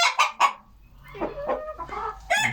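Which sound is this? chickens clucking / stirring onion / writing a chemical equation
chickens clucking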